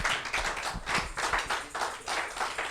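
Congregation clapping in a church service, a steady rhythmic run of handclaps that sounds fairly close, with no cheering voices standing out.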